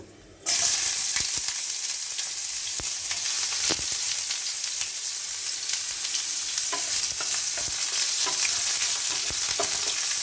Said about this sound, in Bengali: এবারে আমি একটু গোটা জিরে ফোড়ন দিয়ে দেব। এবং এখানে আমি একটা ছোট্ট পেঁয়াজ কুচিয়ে নিয়েছি, সেটা দিয়ে দেব।